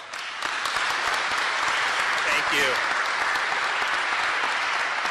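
A crowd applauds a politician at a press briefing, steady loud clapping filling the whole stretch while someone briefly speaks over it.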